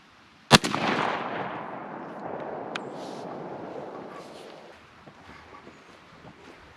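A single loud shotgun blast from a Winchester SX4 Waterfowl Hunter fired at a squirrel target outdoors, a sharp crack near the start followed by a long rolling echo that slowly fades.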